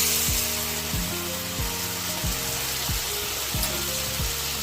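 A watered-down mustard and poppy seed paste hits a hot kadai and sizzles loudly and continuously, with rhythmic scraping strokes of a spatula repeating roughly every half second close by.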